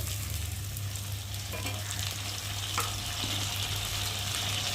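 Ginger, garlic and onion pastes with tomato sizzling in hot oil in a frying pan over fried potatoes and onion, a continuous close sizzle with a couple of soft stirring scrapes, moderately quiet, no voices.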